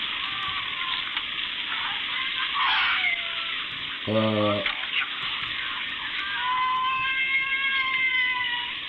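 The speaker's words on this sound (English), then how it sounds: "Is that a cat?" A cat meows briefly amid sizzling, frying-like background noise, with a short tonal cry in the middle and a few fainter mewing sounds around it.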